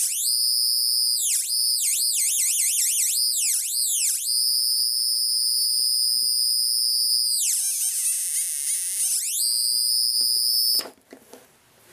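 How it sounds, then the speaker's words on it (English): A light-controlled screamer circuit built from 555 timer chips wails loudly with shrill, warbling electronic tones that swoop up and down, then hold steady, shift pitch, and cut off abruptly, leaving only faint handling noise. "There it is, totally obnoxious and worthless and so much fun to build."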